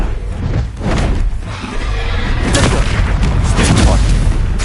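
A fire spell going off in Hogwarts Legacy gameplay, a loud booming whoosh of flame with heavy low rumble that swells and sustains over several seconds.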